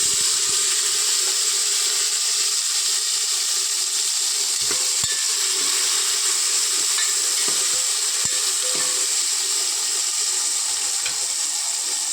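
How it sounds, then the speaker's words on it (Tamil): Chopped tomatoes frying in hot oil on an induction stove, a steady loud close sizzle with a bright hiss throughout and a few small pops and crackles scattered through it. "இதோட நம்ம கட் பண்ணி வச்ச தக்காளியும் போட்டுருவோம்."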